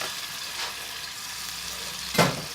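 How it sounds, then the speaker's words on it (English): Ginger and garlic paste dropped into hot sunflower oil for Kashmiri garlic prawns, a soft steady sizzle with a sharp louder hiss burst near the end as more goes into the pan. "Let's add our ginger and garlic paste."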